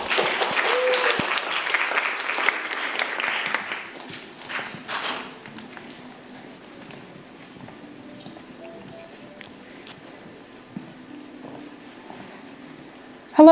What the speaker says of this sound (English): So please give a round of applause for her.